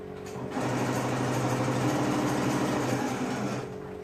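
Sewing machine stitching a boy's tank top, fabric stretched as it feeds, a steady continuous mechanical whir running about three seconds at close range, rising in at the start and stopping cleanly.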